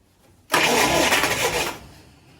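A UAZ 2206 van's engine, idle for years, cranks into life with a sudden loud burst of starter and engine roar lasting about a second before fading back down.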